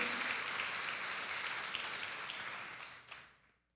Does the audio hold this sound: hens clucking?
no